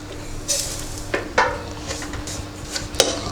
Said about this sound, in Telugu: ఇప్పుడు రవ్వ వేపుకుందాం.